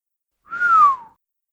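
A single short whistle, one clear tone that glides slightly downward, sounds alone against silence in a fantasy tale.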